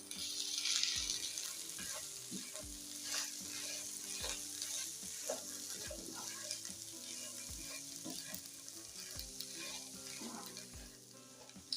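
Spice mixture being stirred and pressed in a hot pan for stuffed chili fritters, with steady frying sizzle and repeated spoon scrapes in an even rhythm, close and fairly loud throughout, no talking.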